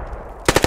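A machine gun in the World War II shooter Squad 44, set in North Africa, fires a quick burst of four or five loud, sharp shots in rapid succession after a brief quiet lead-in.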